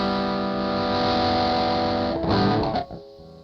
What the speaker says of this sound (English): now we've got some sort of distortion there